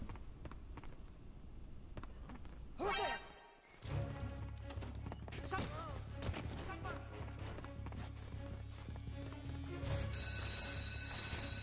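An alarm goes off in the video game Metal Gear Solid 3, a steady ringing electronic tone running continuously alongside busy game music and effects, with a brief dip partway through.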